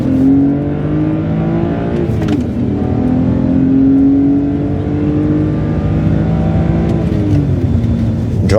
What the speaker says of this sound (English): Driving the Audi A3